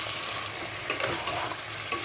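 Boiled bottle gourd being stirred into frying spice paste in a pan: a constant loud sizzle with a few quick scraping strokes of the spoon, no voices.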